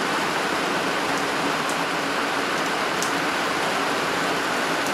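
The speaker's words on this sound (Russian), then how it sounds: "дождь утих, пошел тихий, спокойный," Light, steady rain falls outdoors in summer, where potted pelargoniums stand, after a heavier downpour eases: a constant, even hiss of fine drops, close and fairly loud, with a couple of faint, brief taps and no voices.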